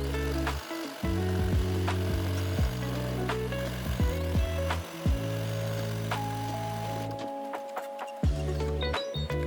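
A computerized embroidery machine stitches felt stretched in its hoop, making a steady mechanical whir with stepped motor tones that shift in pitch as it moves, close and continuous with no talking.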